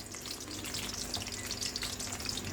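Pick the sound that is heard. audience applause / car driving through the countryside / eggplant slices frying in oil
eggplant slices frying in oil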